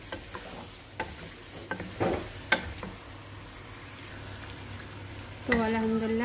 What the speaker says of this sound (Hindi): हम इसे अच्छे से भूनेंगे इसे।